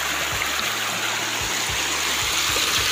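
A small waterfall in a river outdoors pours with a steady, loud broadband rush of water, continuous and unbroken, with faint low thumps underneath and no talking.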